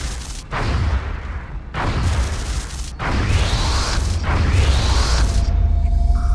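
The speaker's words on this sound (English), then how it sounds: "2 hits from our EMP cannon will be enough to bring our counter up to 30." EMP cannon firing at a UFO in the video game XCOM Enemy Within: a sequence of loud, booming blasts, roughly four bursts each followed by a sustained roaring rush of energy, with no voices.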